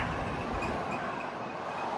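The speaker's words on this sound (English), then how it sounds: "There's the Sydney-Melbourne train rolling through" A continuous low rumble of the Sydney–Melbourne passenger train rolling past at a distance near Albury, steady throughout with faint higher rail tones and no talking.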